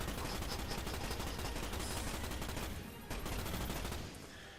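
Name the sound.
gunfire in the video game Starship Troopers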